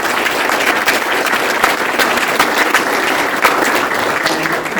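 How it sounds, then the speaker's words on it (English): An audience at a theme park and attractions panel gives the featured panelists a loud, steady round of applause, dense clapping throughout with no talk over it. "Can we all give a special round of applause for our featured panelists?"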